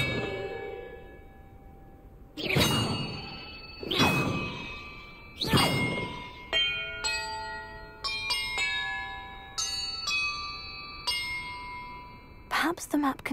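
Large bells in the video game Hogwarts Legacy ring out in three heavy, resonant clangs, followed by a run of lighter, higher chimes that ring on and overlap, then one final strike.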